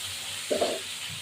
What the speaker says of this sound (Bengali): লবণ দিলাম আলুগুলো একটু ভাজা ভাজা হোক